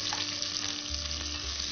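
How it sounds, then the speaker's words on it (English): Oil sizzles and crackles steadily in a pot with onions for a mixed vegetable curry, close range, a soft continuous frying hiss with no speech. "You can hear the sizzle, and that tells you that our oil is nice and hot"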